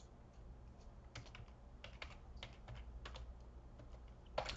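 Steady typing on a computer keyboard while writing HTML and CSS for a resume, with soft, close key clicks in an uneven rhythm and a few louder taps, no talking.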